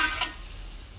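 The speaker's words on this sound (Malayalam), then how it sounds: "ഒരു പ്രാവശ്യം തന്നെ പെട്ടെന്ന് നമ്മൾക്ക് ഫ്രൈ ചെയ്തെടുക്കാം" Onions frying in hot oil for a Thalassery dum biryani, a steady sizzle with a louder burst of stirring at the start, then a quieter continuous crackle close by, no talking.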